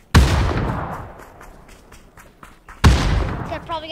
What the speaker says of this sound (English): I threw a bunch of grenades.